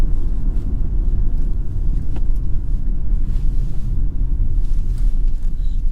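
A 2023 Kia Sportage LX with 187 horsepower accelerates hard in sport mode with traction control off, giving a steady, dense low engine and road rumble heard from inside the cabin, with no talking.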